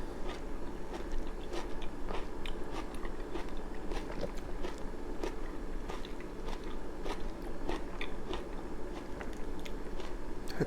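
Radish kimchi is chewed close to the mic with steady wet crunching bites repeating throughout, no talking over it.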